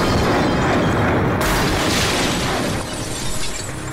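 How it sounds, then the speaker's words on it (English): An SC-50 bomb detonating 25 metres away in a blast test beside an earth-covered shelter structure, a loud broadband explosion followed by a sustained roar of rumbling and falling debris that tails off slightly toward the end. "The SC-50 detonated at 25 metres away."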